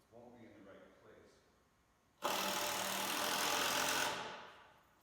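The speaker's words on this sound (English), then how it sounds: "I'm just going to put one screw in because it won't be in the right place." A screw is driven into wood while a manger is being built: a short burst of loud, whirring power-driver noise lasting about two seconds. Before it comes only a faint murmur.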